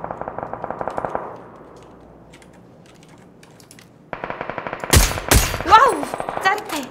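Video game gunfire: rapid automatic bursts, a quiet pause, then more fast shots with louder blasts and a voice mixed in near the end.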